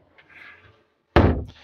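A large wardrobe door inside a Rapido 8066df Alde motorhome swings shut with one loud, close thud, preceded by faint soft rustling and followed by a short dying rattle.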